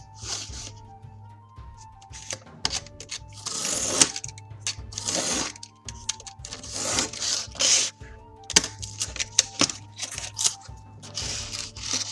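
Material is cut for tabletop dungeon tiles in a string of close, scraping cutting strokes of uneven rhythm over a steady low hum.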